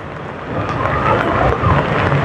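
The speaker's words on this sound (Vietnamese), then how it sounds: "Mưa tầm tã luôn." Heavy pouring rain on a city street at rush hour, a dense steady roar of downpour with rumbling traffic underneath, no voices.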